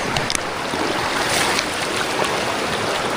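Strong, fast-flowing river water, a dense and loud continuous rushing roar close by with no break, a few faint splashy accents near the start.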